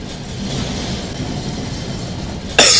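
A train rolls along steadily in the Roblox game Escape Nightmare Huggy Wuggy, giving a constant rumbling noise with no speech. A sudden loud, harsh burst cuts in near the end.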